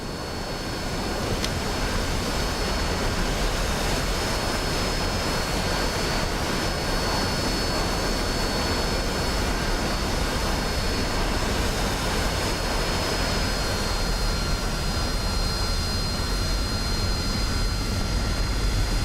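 An AV-8B Harrier jet in the DCS World flight simulator roars steadily through its takeoff, a loud, unbroken engine drone with a faint high whine that holds level from start to finish, with no talking.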